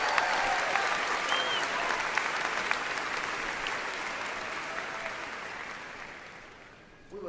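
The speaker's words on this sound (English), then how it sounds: "Please join me in giving them a round of applause." Sustained applause from a large crowd at a high school graduation ceremony, a dense, even roar of clapping that slowly fades toward the end.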